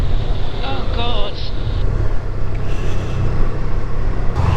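A Vespa scooter rides through Shanklin town on a route toward the beach, its engine droning steadily under heavy wind buffeting that stays loud the whole time, while a person talks over it briefly.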